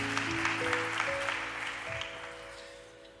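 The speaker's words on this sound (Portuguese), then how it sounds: "Aplauda ao Senhor mais uma vez." A church congregation claps for a few seconds under sustained keyboard or organ chords, the applause scattered and fading toward the end.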